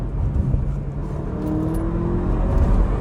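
A 2020 Porsche Macan with a 245-horsepower 2-litre engine and sport exhaust pulls hard in second gear, a steady rising engine drone with road rumble, heard from inside the car with no talking.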